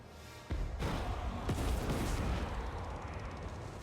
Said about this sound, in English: I see them cannon shots.